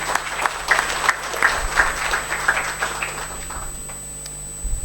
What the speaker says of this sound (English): let's give him a round of applause for being our chief guest for today's session.